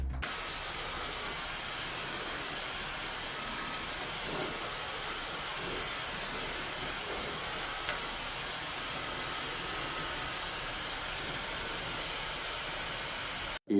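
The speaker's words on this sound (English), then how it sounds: "A hair dryer speeds up the process by tenfold." A hair dryer blows on a beret with a constant, loud airy hiss, steady and unbroken from start to finish, then cuts off abruptly.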